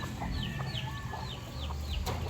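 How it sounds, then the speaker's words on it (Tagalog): Bantam chickens clucking on a small farm, several short calls at close range over a steady background hum. "Meron din tayong bantam, no."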